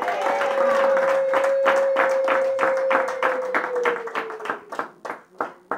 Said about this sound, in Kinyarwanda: komera Imana amashyi menshi cyane